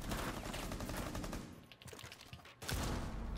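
Rapid bursts of gunfire from a Rainbow Six Siege match, dense and fairly quiet, with a short lull before a renewed burst of shots.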